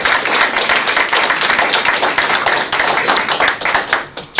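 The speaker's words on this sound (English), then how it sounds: "we'll give a little round of applause here for Tom" Applause from a small audience after a talk on whether corporations are people: dense, steady clapping from many hands, close and continuous, with no voices over it.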